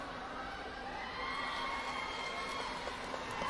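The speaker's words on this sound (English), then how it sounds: "They're cheering the teams on, they're dancing, they're making lots of noise." Filipino fans at a women's netball match at the Santa Rosa Sports Complex cheer and shout in a steady, far-off crowd roar that swells slightly midway, with excited higher voices carrying over the din.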